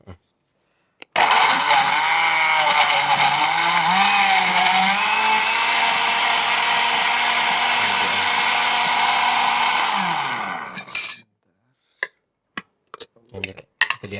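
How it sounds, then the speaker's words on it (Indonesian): An electric blender whirs loudly and continuously for about ten seconds, blending herbal drink ingredients with water, then stops, followed by a few sharp clinks and knocks. "Kita langsung blender ya."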